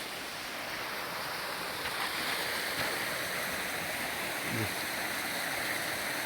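Steady, rushing water pours continuously at moderate distance, a constant broadband roar with no voices or pauses.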